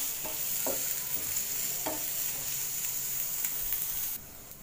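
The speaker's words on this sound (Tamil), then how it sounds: "இதை வந்து ஒரு 1 நிமிஷம் வந்து குறைவான தீயில், மீடியமான தீயில் வந்து 1 நிமிஷம் வந்து நல்லா வதக்கிக்கலாம்" Onions and green chillies sautéing in a pan over medium heat for egg kothu chapati give a steady bright sizzle with a few spatula scrapes, fairly close, and no talking; the hiss drops slightly just before the end.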